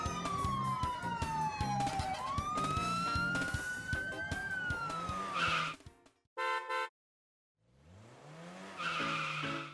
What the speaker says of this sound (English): I bet you've seen a police car before. With bright flashing lights and a noisy siren.